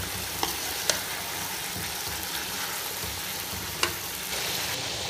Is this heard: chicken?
yes